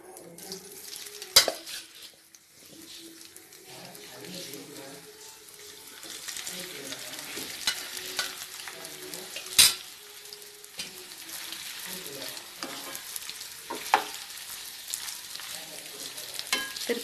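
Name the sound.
cauliflower shallow frying in hot oil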